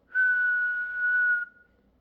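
A person whistles a single long, straight, monotone note lasting just over a second, imitating a heard whistle, close and steady with no talking.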